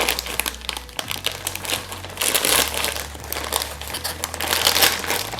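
Plastic packaging around a Raymond slim fit light blue shirt crinkles and crackles up close in irregular bursts as it is pulled open, with a faint low hum underneath.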